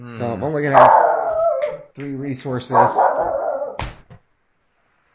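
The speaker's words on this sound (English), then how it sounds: "Sorry about my dog in the background here as we're trying to do this commentary." A pet dog barking and whimpering in a home while someone talks through a Star Wars card game match, the dog's sounds mixed in with his steady speech.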